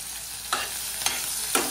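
Finely chopped green chillies with cumin in hot ghee, a soft steady sizzle punctuated by three brief stirring scrapes spaced about half a second apart.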